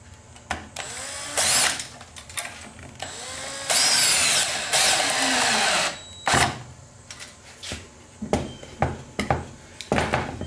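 A power drill drives a screw into wood at an angle, in several loud, close bursts of whining motor that rise in pitch, with pauses and clunks of handling between them, no talking.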